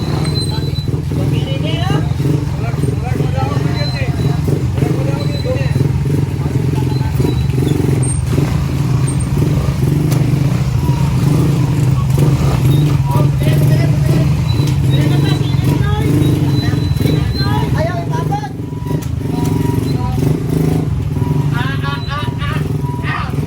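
Motorcycle engines rumble and rev at low speed for a long stretch during a slow drag race balance contest, with crowd chatter and shouting mixed in throughout.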